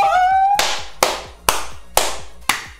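Five loud, sharp hand claps spaced evenly about half a second apart, close by and ringing briefly, following a short rising electronic tone from a mobile summoning game.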